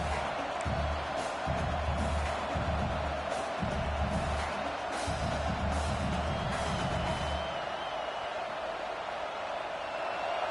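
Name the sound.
stadium crowd noise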